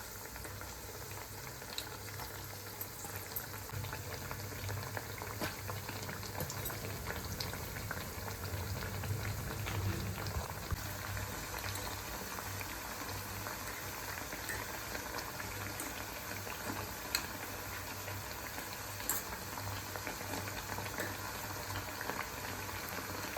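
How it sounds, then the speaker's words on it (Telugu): Papu garelu, lentil vadas, frying in hot oil over medium flame, giving a steady dense bubbling sizzle that stays even and close throughout with no voices. "వీటిని మీడియం ఫ్లేమ్లోనే ఫ్రై చేయండి"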